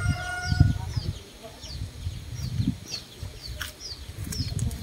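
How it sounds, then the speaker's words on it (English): Grandma's backyard chickens and chicks in a coop near a jungle, soft clucking and chirping in scattered bursts close by, with faint high peeps and a brief flutter. "Lots of chicks. 5 chicks."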